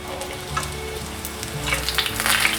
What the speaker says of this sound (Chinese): 另一面再让它炸一下，开中小火，已经炸定型了，现在要炸上色